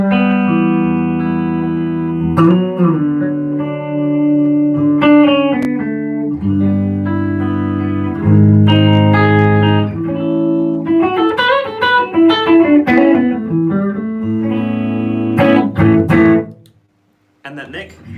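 Gibson Les Paul electric guitar on the middle pickup position, played with loud sustained chords and melodic lines with a lightly driven, reverberant tone, continuous throughout before stopping abruptly near the end.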